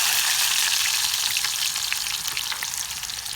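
Onion, whole cumin and garlic cloves fry in hot oil for urad dal, a bright, dense sizzle with crackling spits that eases slightly over a few seconds.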